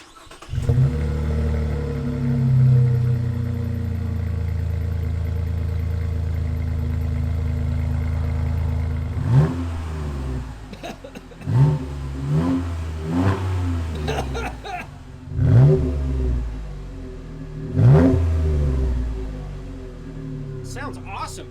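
A Chevy Colorado pickup with a GM Performance exhaust idles with a deep, throaty note, then revs sharply several times in bursts, each rev rising and falling back to a low burble.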